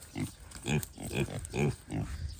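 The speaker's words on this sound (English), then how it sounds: "We got some KUNE KUNE pigs." Kune Kune pigs on a family farm grunt in a steady run of about five short, close oinks, spaced evenly and moderately loud.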